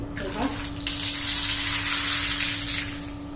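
Bright, steady sizzle of mustard seeds crackling in hot oil, rising quickly and holding for a few seconds, close by, with a low hum underneath.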